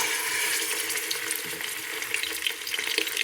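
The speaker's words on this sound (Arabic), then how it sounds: "نحطو طراف تاع اللحم تاعنا يتقلى" Meat pieces frying in hot oil in a pot, a loud, dense, continuous sizzle and crackle heard close up with no talking.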